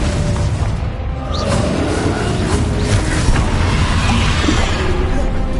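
A Confringo blasting spell erupts in Hogwarts Legacy, a dense booming burst that rolls into sustained crackling rumble and stays loud and close for several seconds amid busy game effects.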